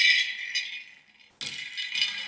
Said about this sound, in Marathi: आता तव्यामध्ये आपण शेंगदाणे घेऊयात. अर्धा कप शेंगदाणे